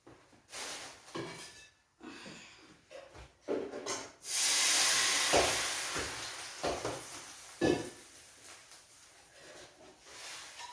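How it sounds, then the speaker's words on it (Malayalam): Boiling water poured into a jackfruit seed sambar with drumstick and mango: a sudden loud hissing surge midway that slowly fades, set among scattered clatter and quieter bubbling noises. "പാകത്തിന് വെള്ളം ചേർക്കാം."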